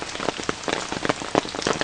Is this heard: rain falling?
yes